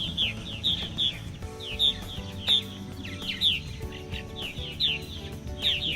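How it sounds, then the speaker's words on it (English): Purple martins chirp repeatedly as they fly around at sunset over a lake, giving short high twittering calls in irregular bursts over a low outdoor background rumble. "And look at the martins flying around and chirping."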